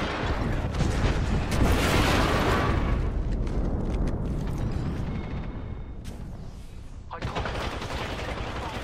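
Explosions and gunfire burst in a chaotic firefight in the video game Apex Legends, loud at first and fading into rumbling, with voices talking over parts of it.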